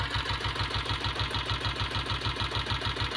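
A diesel Bullet motorcycle engine, a self-start model, idles steadily, its even rapid thumping beat repeating without pause and close up.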